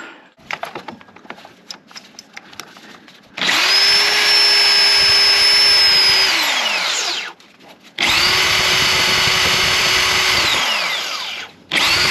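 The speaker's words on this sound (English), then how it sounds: "Nope, I need to drill in there a little bit more." A power drill bores into a broken exhaust manifold bolt on a 2017 Ram 1500's 5.7 Hemi, with scattered clicks and scraping, then two long loud steady whining runs separated by a short pause.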